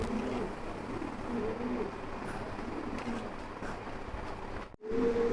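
Tagged pigeons coo softly in a loft, low repeated murmurs surfacing through a buzzy background hum, with a short break near the end before the cooing resumes.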